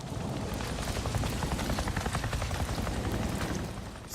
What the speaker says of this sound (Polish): Słyszę śmigłowiec jakiś.